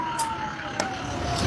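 Fire brigade trucks and ambulances sound their sirens during a mock emergency drill in Hisar, India, a steady wailing tone heard from a distance beneath outdoor crowd noise and faint voices.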